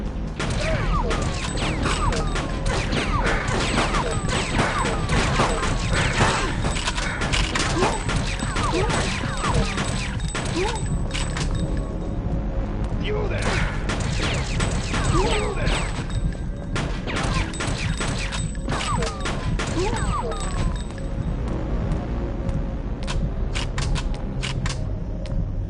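Gunfire in the video game Fear Effect crackles in dense, rapid bursts over a steady game soundscape, sharp reports piling up and pausing briefly before resuming.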